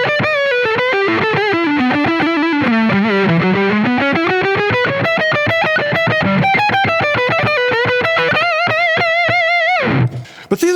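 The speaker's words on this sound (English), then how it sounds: "Let's turn on a little bit more distortion, because this distorts real nice." Electric guitar played with heavy distortion, a fast run of melodic notes and bends sliding up and down, loud and alone, ending in a sudden cutoff.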